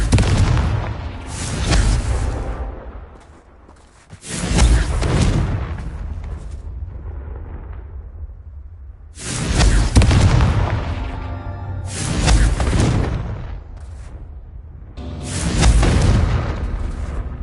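Confringo blasting spells explode in Hogwarts Legacy on PS5, giving a string of loud, booming blasts in bursts, each followed by a rumbling decay and a quieter pause before the next volley.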